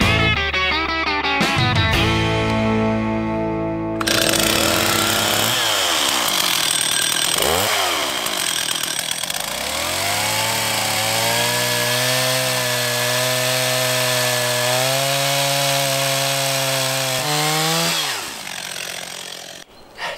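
A chainsaw cuts firewood lengthwise along the grain to shave off curly wood fibres for fire starters, the engine whining loudly and continuously with rising and falling pitch as it bogs into the cut and revs free.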